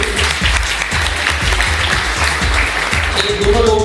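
Loud applause from a seminar audience in Balrampur, a dense steady patter of many hands clapping with low thumps, continuing for a few seconds without talk.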